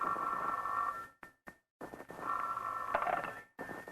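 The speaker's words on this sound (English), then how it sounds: "the next morning, the phone rang early." A telephone rings in two electronic trills separated by a short pause, fairly close, with no talking.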